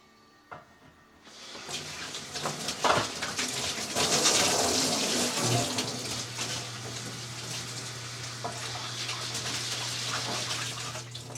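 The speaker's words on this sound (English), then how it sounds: "I'm not going to put a ton of water in here because I don't want to dilute this too bad" Water pours into a 55-gallon sugar syrup mixer for honeybees: after a quiet start, a steady, fairly close rush of splashing water runs continuously, and a low mechanical hum joins partway through.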